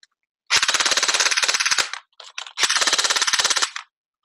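Uzi gel ball blaster on an upgraded 11.1v battery firing full-auto, two loud close bursts of rapid even shots, each lasting over a second, with a short stuttering patter between them.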